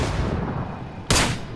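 Gunfire in PlayerUnknown's Battlegrounds, a dull rumbling shot echoing at the start followed later by one sharp, loud, close gunshot crack.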